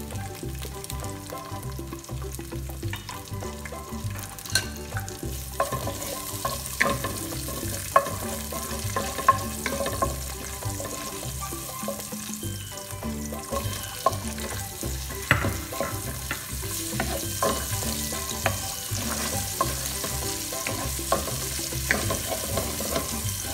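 Garlic sizzles and fries in a hot pan for a liver and gizzard stew, a steady crackling hiss broken by frequent sharp pops and stirring clatter, close and moderately loud, with no talking.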